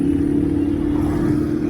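A Yamaha RX 135 two-stroke motorcycle engine at night, running close and loud with a steady, buzzy throb and a slight rise near the middle, heard alone without talk.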